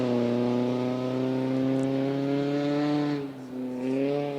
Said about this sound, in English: The smooth purr of a Honda CRX engine.